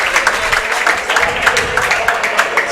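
A crowd at a racquetball world championship men's doubles final applauding steadily, a dense wash of clapping with pulsing peaks, fairly loud and continuous.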